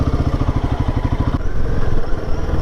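A Himalayan 450 motorcycle runs with a steady, pulsing mid-low engine note, close and fairly loud, shifting slightly in tone partway through as the ride continues.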